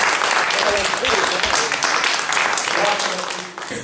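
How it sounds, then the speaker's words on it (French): A room full of people at a municipal council meeting applauds loudly, sustained clapping that tapers off near the end. "ça m'est jamais arrivé qu'on applaudisse au conseil municipal."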